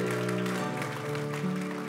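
A church congregation applauds at a Christian community service: steady, fairly soft massed clapping continuing throughout, with sustained musical tones held underneath.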